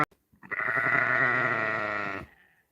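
A lamb or sheep on a homestead gives one long, loud, wavering bleat close by, lasting nearly two seconds, with brief faint sounds just before it.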